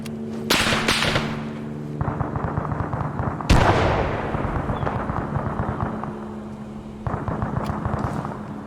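A grenade blast in the military shooter Arma 3, Antistasi mode on the Chernarus map: a few sharp cracks early, then one loud booming explosion with a rolling tail, over a constant low rumble of battle.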